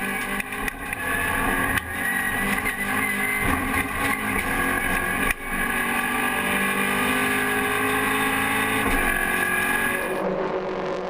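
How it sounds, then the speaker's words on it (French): Onboard a Peugeot RCZ race car at Le Castellet, the engine roars loudly and continuously, with rising and falling pitch through gear changes and wind noise throughout. "On est à bord de la voiture de Philippe Morin, qui avait signé la pole position"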